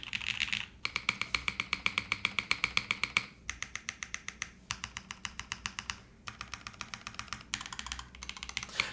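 Rapid typing in bursts on a Chimera65 R2 mechanical keyboard, crisp clicky keystrokes with short pauses between runs, close and clear with no voices.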